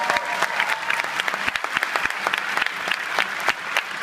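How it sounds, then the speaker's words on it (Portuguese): A church congregation claps in applause during a worship service, sharp overlapping hand claps in an irregular, lively patter that holds steady for about four seconds, with a faint voice underneath. "Pode dar uma salva de palmas para Jesus"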